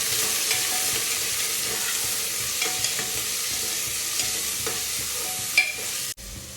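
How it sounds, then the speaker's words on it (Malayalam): Onions sauté in a pan, a steady sizzle and fry with occasional stirring scrapes, close and continuous before a sudden drop near the end. "ഉള്ളീനെ നമുക്ക് ജസ്റ്റ് ഒന്ന് വഴറ്റിയെടുക്കാം കേട്ടോ. ഉള്ളി നന്നായിട്ട് വഴറ്റിയെടുക്കാം."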